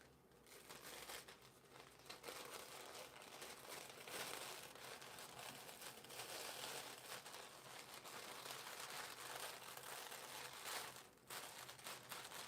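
Insulating packing paper with a texture between paper towel and tissue paper is handled and crinkled, making a faint, continuous rustle with irregular crackles.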